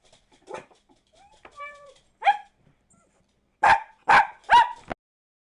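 Several dogs bark at home, a few scattered yips and whimpers early, then three loud, close barks in quick succession near the end, with no talk over them.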